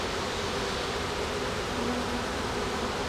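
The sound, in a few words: honeybee swarm buzzing around an open beehive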